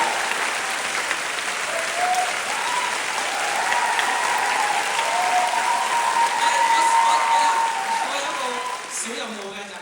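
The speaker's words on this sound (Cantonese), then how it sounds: "希望可以借大家嘅掌聲，多謝所有。" Theatre audience applauding at the end of a Cantonese stage show's special talk, a dense sustained wave of clapping that swells and then fades, with a voice speaking faintly over it.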